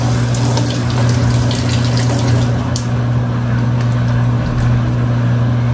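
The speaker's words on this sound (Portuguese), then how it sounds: "Agora eu vou completar com água" Water from a tap pouring into a container of cleaning product, a loud, steady rushing gush with a constant low hum beneath, close and continuous throughout.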